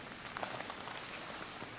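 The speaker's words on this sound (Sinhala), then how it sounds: "අප්පා ඇතියන්තම් වහිනවා" Rain falls in the horror video game No Rest, a steady, dense hiss with a few brief drop-like patters on top and no voices.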